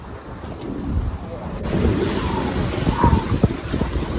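Gusty wind buffets the microphone outdoors while fishing in Madison, Wisconsin, with a low rumble and water sloshing nearby.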